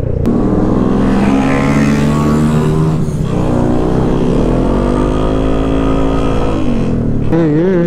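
A motorcycle fitted with a Villain aftermarket exhaust muffler revs loudly up close, a continuous engine drone whose pitch rises and falls, with a sharp wavering rev near the end.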